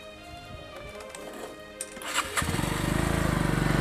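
A motorcycle engine cranks with a few irregular clatters, then catches and settles into a steady, fast, throbbing idle close by.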